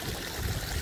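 Water flowing through a bucket-style filter in a backyard pool: a brief, steady trickling gurgle, close and fairly soft, with no talking over it.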